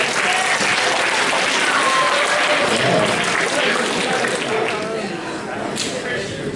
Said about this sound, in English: Give him a proper round of applause